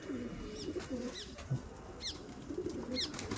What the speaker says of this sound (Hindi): यार ठंड बहुत है और कबूतर वगैरह बाहर निकाल लिए हैं, सारे बाहर आ चुके हैं